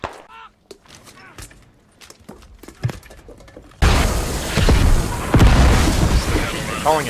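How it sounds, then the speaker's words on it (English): Frag grenade explosions in the tactical shooter game Squad, a heavy boom that erupts midway and rolls into a loud, sustained crackling rumble, preceded by quieter scattered clicks and pops. "We just threw frags at each other."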